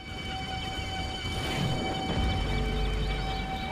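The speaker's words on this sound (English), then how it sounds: "hear that? That was feedback. Very dangerous, not to be toyed with." Guitar amplifier feedback in the Brütal Legend video game rings as sustained, steady high-pitched whining tones over a low rumbling background, continuous throughout, with no talking.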